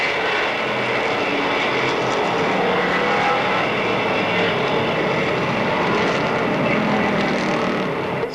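Stock cars roar together at Monadnock Speedway, a continuous loud, dense engine drone from the pack on a restart, sustained and even with no talk over it.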